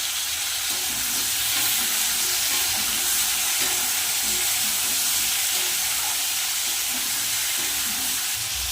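Vegetables with green chillies frying in a pan give off a steady, loud sizzle with a hiss of steam, constant throughout with faint stirring scrapes underneath.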